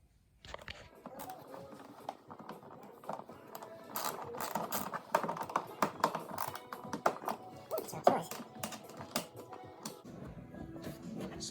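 Close, clicky ratcheting and metallic mechanism sounds come from bolts being undone to remove a Sea-Doo hood. Someone talks between the bursts of quick, uneven clicks.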